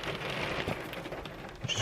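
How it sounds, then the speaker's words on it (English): Rain falls outdoors in a soft, steady hiss of drops on surfaces, faint and continuous for a brief moment with no voices. "And it started raining as well,"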